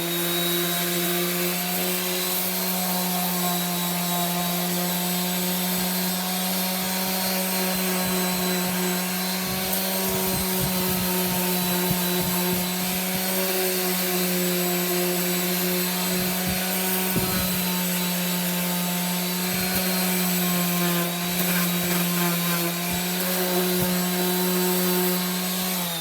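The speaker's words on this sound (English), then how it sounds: "we're going to go sand it, and then we're going to route it" Power sander working the edges of a bandsawn wooden apple shape at a sanding station, a loud continuous whirring hum with a steady tone throughout and occasional rubbing scrapes as the wood is pressed against it.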